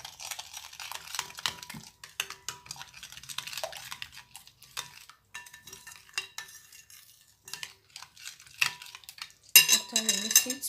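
Spoon stirring a sugar and yeast mixture in a bowl for homemade donut dough, giving soft scraping and clinking taps that run on and off, close and moderately quiet, with a brighter clatter near the end.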